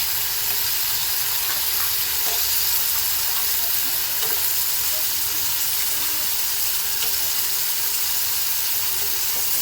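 Lentil dumplings (bori) frying in a pan with salt, turmeric, cumin and chilli powder, giving a steady, close, broadband sizzle with occasional small stirring clicks throughout.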